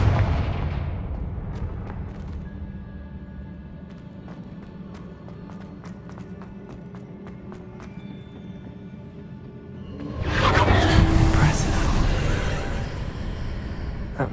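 Confringo spell blasts in Hogwarts Legacy: scattered sharp cracks over a low rumbling bed, then a loud, broad explosive surge near the end that lingers before fading slightly.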